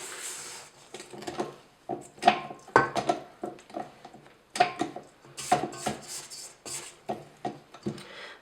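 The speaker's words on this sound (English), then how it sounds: "I'm just going to scrape the bowl to make sure the butter's all off the side" A spatula scraping butter off the sides of a mixing bowl while making red velvet cake batter, in a series of short, close, soft scrapes and taps in an irregular rhythm.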